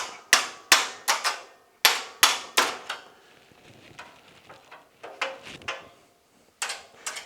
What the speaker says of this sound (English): you want to pound each one out 3/4 of an inch.